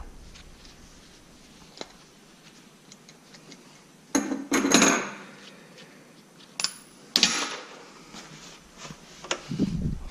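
Adjustable wrench working a catch can fitting loose on a 2005 C6 Corvette engine, giving a few sharp metallic clicks and scraping clanks in bursts over a quiet garage background.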